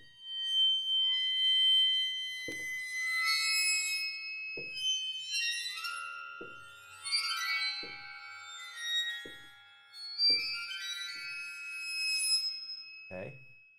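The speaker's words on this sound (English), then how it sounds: "This is normal, so this is without any water in it." A waterphone played dry on the CinePerc PRO percussion library: a series of struck and bowed metallic rods, with sharp pings at irregular intervals under sustained, shimmering, eerie tones that ring and overlap.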